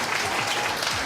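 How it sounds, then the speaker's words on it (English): An audience at a storytelling event about short films claps in dense, steady applause for a guest, a brief full burst with no break. "please give us a round of applause for Bill Forsyth"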